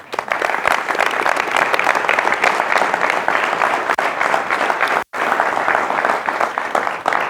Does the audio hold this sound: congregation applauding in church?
yes